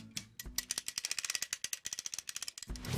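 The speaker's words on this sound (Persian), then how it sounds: "صدای قرقره رو که قایق رو از آب میکشید بیرون شنیدین؟" A rapid series of sharp mechanical clicks rattles off in a steady rhythm from a winch reel pulling a boat out of the water, close and fairly loud.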